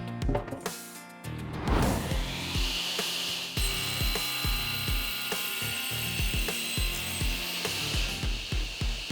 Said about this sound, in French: nous sommes prêts à la passer à la scie pour nous débarrasser des bords